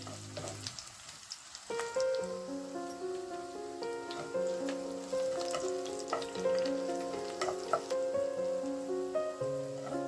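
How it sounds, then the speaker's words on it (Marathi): Small pieces of ginger sauté in ghee with a soft, steady sizzle, along with occasional stirring ticks, while a tuneful melody plays over the top at moderate level. "हे चांगले तुपामध्ये परतून घ्यायचे"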